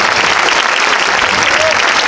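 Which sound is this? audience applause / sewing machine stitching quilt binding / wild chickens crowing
audience applause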